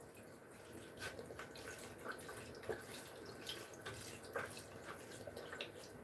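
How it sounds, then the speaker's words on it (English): Water is poured softly into a pot of potatoes and chicken broth, a faint, steady splashing trickle with occasional drips, heard close and alone without talk. "we'll add some water to it"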